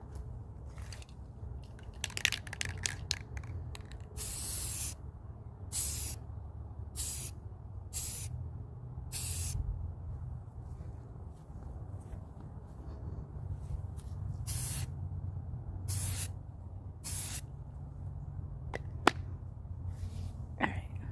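Aerosol spray paint laying a matte black coat onto old Moterm rings, heard as repeated loud, broadband hissing bursts of a second or so each, separated by short pauses, over a steady low rumble.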